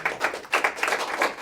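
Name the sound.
applause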